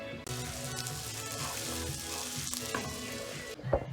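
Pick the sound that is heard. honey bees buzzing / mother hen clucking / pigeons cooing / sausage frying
sausage frying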